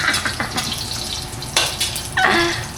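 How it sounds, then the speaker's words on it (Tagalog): Garlic fries in a pan with a continuous, close crackling sizzle, broken by a few sharp scrapes and clinks of a utensil against the pan. "Prito ko lang ahos."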